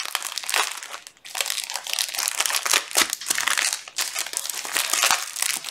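Crinkly plastic packaging of a pack of paper napkins being pulled and torn open, a loud, continuous close-up rustling and crackling with brief pauses, no talking.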